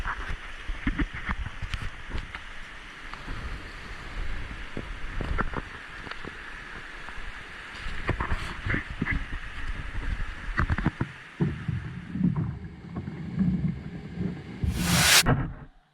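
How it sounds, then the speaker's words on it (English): Repeated splashes and knocks of a boat being paddled through water, near and uneven in rhythm, with wind noise and a burst of rushing noise near the end. "I'm just gonna paddle and keep going until I figure something out"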